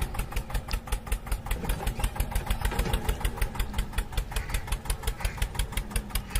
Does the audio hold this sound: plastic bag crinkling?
no